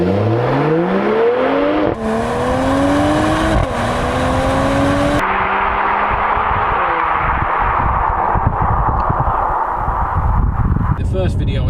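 A 2019 Mercedes-AMG CLS53 engine revs up through rising gears with a rough exhaust note, loud and close, then settles into a steady droning cruise.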